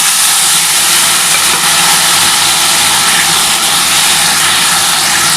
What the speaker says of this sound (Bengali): সেই তেলের মধ্যে আমি কিন্তু আলু আর এই যে গাঠি কচুটা একসাথে দিয়ে দিচ্ছি